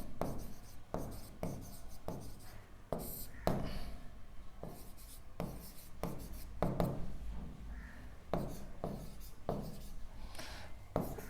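Pen scratching across paper in short repeated strokes while a math problem is worked out, close and clear under a steady low hum, with occasional faint talk.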